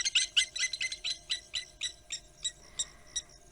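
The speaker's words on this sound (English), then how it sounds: "the serval would have seen the blacksmith lapwings that are calling" Blacksmith lapwings calling in the African bush: a rapid series of sharp, metallic clinking notes, about a dozen evenly spaced calls, loud and fairly close, slowing slightly toward the end.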